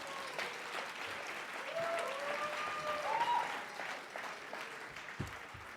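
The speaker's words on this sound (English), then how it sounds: "So I'd just like to give one more final applause to Kevin D'Annunzio himself" An audience gives applause for Kevin D'Annunzio at a scholarship event, a sustained, even roar of many hands clapping, with a few faint voices and whoops rising briefly within it.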